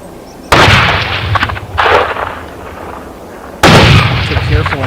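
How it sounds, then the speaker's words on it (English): Gunshots are fired at a wild boar in a field. There are two sharp, loud reports with long echoing tails, one early and one later, and a smaller burst between them. "After a few gunshots, the boar was hit and collapsed on the spot."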